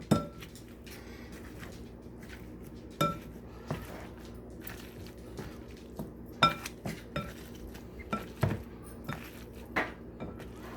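Cauliflower mashed with butter in a pot, quiet soft squishing punctuated by irregular knocks and clinks of the masher against the pot, close by with no talk.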